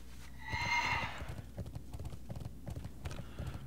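A horse whinnies, then hooves clip-clop in a steady trotting rhythm, close and fairly quiet, from a mount in World of Warcraft.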